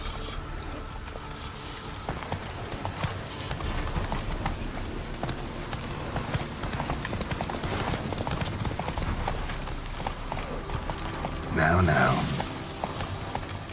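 Hooves of a galloping horse in The Witcher 3 drum steadily beneath game noise and ambience, with a brief louder burst near the end and someone speaking briefly over it.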